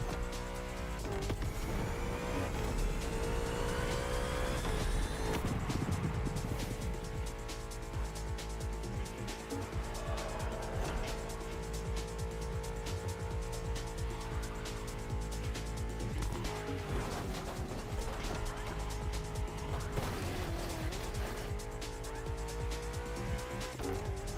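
A BMW M5 F90 CS in a racing video game, engine roaring steadily at high revs with gear-shift rises and drops and occasional tire squeal, loud and continuous throughout with no voices.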